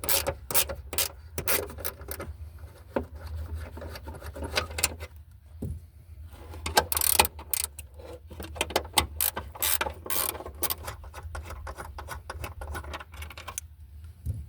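Ratcheting wrench rapidly clicking as 12mm bolts are loosened on a Honda Civic 1.8L fuel pump, bursts of ratchet pawl clicks with metallic rubbing, close and intermittent.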